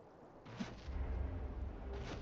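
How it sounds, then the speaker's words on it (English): Howitzer artillery in the strategy game Master of Command booms as a deep rumbling salvo, low and heavy, rising after a short quiet start and rolling on continuously with no speech. "the howitzers can open up whenever they want"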